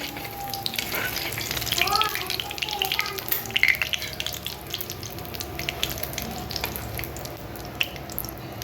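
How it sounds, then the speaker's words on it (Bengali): Chicken nuggets fry in oil with a soft, steady sizzle at low volume, with a few faint clinks and watery sounds in the background. "তো দুটো নাগেটস আমি ফ্রাই করে দিচ্ছি আমার ছেলেকে"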